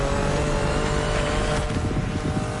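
Turbocharged car engine in The Crew Motorfest racing game, a loud, steady drone with a continuous whine that shifts slightly in tone partway through, heard alone without talk.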